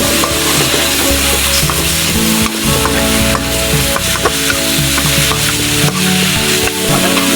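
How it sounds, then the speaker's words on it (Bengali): Brinjal pieces sauté in hot oil in a pan for a rohu fish belly curry, a loud steady sizzle with continuous scraping stirs close up and no voices. "তারপর দিয়ে দেব আমি বেগুনগুলো এই দেখুন এটাকে আমি ভালোভাবে কষিয়ে নেব"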